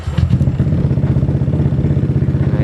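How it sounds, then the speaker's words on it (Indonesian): A motorcycle engine runs at a steady idle, loud and close, with an even, rapid chugging pulse throughout. "Jadi sehatnya adalah dinyalain dulu motornya."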